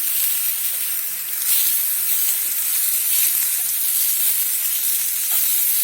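Finely chopped tomatoes hit hot oil in a pan, giving a steady, loud hissing sizzle that holds almost unbroken throughout, swelling slightly after a brief dip, with no voices.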